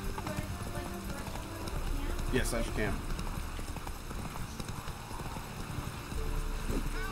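Hooves clip-clop beneath a player talking while riding a horse into combat in The Witcher 3, a steady rhythmic gait mixed with game sounds and commentary.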